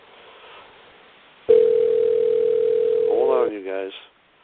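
A telephone call placed to an unset voicemail box gives a loud, steady single tone lasting about two seconds, cut off by a short burst of an automated voice. Quieter background noise comes before the tone.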